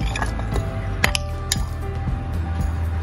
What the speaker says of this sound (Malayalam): 1 ക്യാരറ്റ് അരിഞ്ഞത് ചേർത്ത് കൊടുക്കാം.